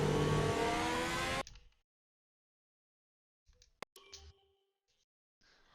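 Racing cars in a sim-racing game roar past on a Belgium track, a loud rising engine rev that cuts off abruptly, followed by near silence and a few brief faint sounds.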